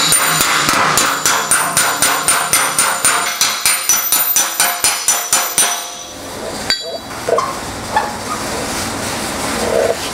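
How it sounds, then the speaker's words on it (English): A body-work slapper smacking a Volkswagen Beetle fender against a dolly, ringing metallic strikes in a steady rhythm of about twenty blows, close and loud, then stopping into shuffling handling noise. "This is my slapper here. I'm gonna be using this dolly. We're just gonna start smacking this"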